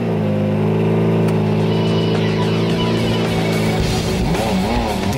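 A Lamborghini Murcielago LP 640 with a V12 engine accelerates hard, a loud, close, sustained roar whose pitch climbs steadily and then shifts near the end as it changes gear.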